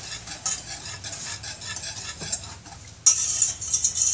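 Moroccan beldi soap made with argan oil is stirred in a hot aluminum pot, giving continuous close scraping and swishing with a bubbling, sizzly hiss that grows brighter toward the end.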